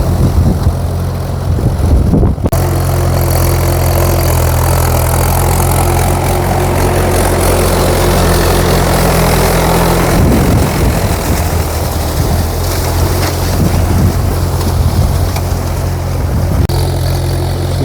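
A tractor or similar heavy vehicle puddles a wet, muddy field. Its engine gives a loud, close, continuous low drone that strains and shifts in pitch as the machine turns. No voices are heard.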